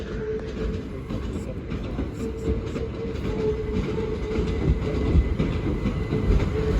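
A Southeastern passenger train arriving at Dover Priory station rumbles along the track with a steady low roar and faint clicking of wheels, growing slightly louder as it draws nearer.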